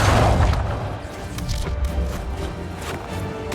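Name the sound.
trebuchet firing in the video game Dragon Age Inquisition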